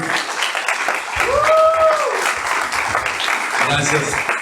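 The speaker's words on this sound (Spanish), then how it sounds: "Un aplauso, a ver, para que todos los escuchen." A church congregation at a Spanish-language service claps together in a short burst of applause that builds, peaks and fades over a few seconds, with a voice speaking and a tonal sound over it.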